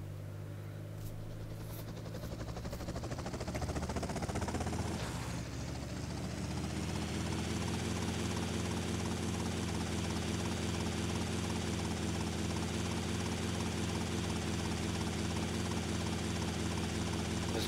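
A helicopter in GTA Vice City, a steady droning rotor and engine whine that holds constant and loud throughout, with a shift in tone a few seconds in.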